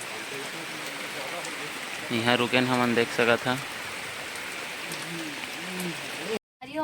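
Rain falls during an outdoor song shoot in a village, a steady moderate hiss of drops behind voices that talk and call out midway, with a short dropout near the end.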